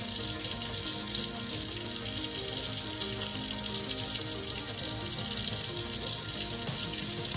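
Tap water runs steadily into a sink while a soapy glass cup is rinsed, a continuous close hiss and splash that never lets up.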